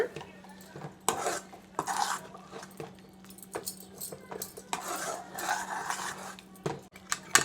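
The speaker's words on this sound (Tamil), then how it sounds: "இதை ஒரு கலக்கு கலக்கி விட்டுறலாங்க" Potato masala fry being stirred in a pan with a spoon, a few sharp metallic clinks and scrapes against the pan over a low background hum, mostly close and moderately loud.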